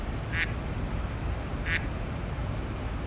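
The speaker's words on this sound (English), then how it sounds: "There's a duck." Two short, bright duck quacks, spaced over a second apart, sound as a button-triggered effect in a Zibo mod 737 flight simulator cockpit, set against a steady low cockpit hum.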